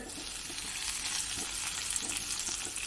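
Sardines sizzle steadily in a pan lined with curry leaves, a dense, continuous crackle of hot oil with small pops, close and fairly loud throughout with no voices.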